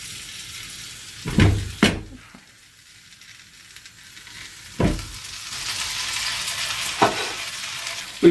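Butter melting and sizzling in a tall pot while being made into ghee, a steady frying hiss with a few louder stirring clatters and scrapes, close and fairly quiet.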